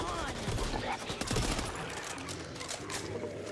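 Shotgun blasts in the zombie shooter Back 4 Blood, booming over a dense clatter of gameplay gunfire and chaos, fairly loud and continuous with a few sharper bursts early on.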